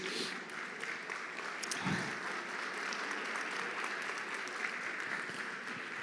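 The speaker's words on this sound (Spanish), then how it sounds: "denle un fuerte aplauso al Señor Jesús" Church congregation at a Cali service gives a sustained round of applause, fairly distant and even, with a faint shout or voice briefly rising near the middle.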